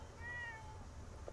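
A cat in the Fallout 76 video game gives a single drawn-out, high meow over a low, steady ambient hum, faint and brief, with no talking.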